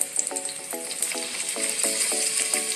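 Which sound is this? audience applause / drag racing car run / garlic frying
garlic frying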